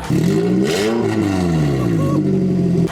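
A Toyota Highlander engine with its catalytic converters removed revs loudly and raggedly up close, its harsh, unmuffled tone rising and falling as the throttle is blipped.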